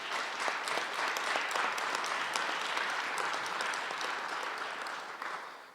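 Audience applause at a 2019 Calgary Rocky Ridge candidate forum, a sustained wash of many hands clapping in the hall that stays steady before fading off at the end.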